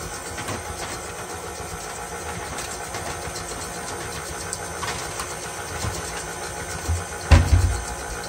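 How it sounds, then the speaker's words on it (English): An electric stand mixer runs steadily while blending cake batter, a constant motorized whir with a louder clunk near the end. "Now with our mixer running"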